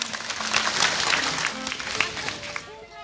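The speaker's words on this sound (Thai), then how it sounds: "ถ้าคิดว่าคนนี้ชนะขอเสียงปรบมือหน่อยครับ" Audience applause for a contestant in a 1993 Thai comedy troupe show, clapping and crowd noise mixed with voices talking over it.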